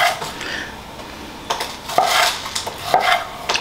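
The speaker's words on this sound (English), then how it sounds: "So we're gonna chop our tomatoes." A knife chops tomatoes on a board, giving a few separate knocks and cuts at an unhurried, irregular pace, close by, with faint kitchen clatter between strokes.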